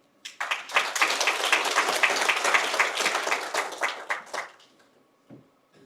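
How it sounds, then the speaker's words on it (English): An audience claps for a senior trust secretary at a pension scheme member education event: a burst of applause that swells quickly, holds steady for about four seconds, then thins into scattered claps and fades. "Once again, a round of applause for our senior trust secretary"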